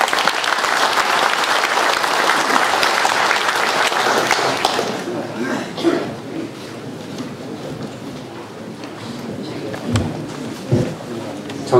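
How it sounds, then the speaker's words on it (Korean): An audience at an outdoor Seoul rally claps loudly and densely to welcome a speaker, then the applause fades into scattered claps and crowd murmur. "우리 박수로 환영해 주시기 바랍니다."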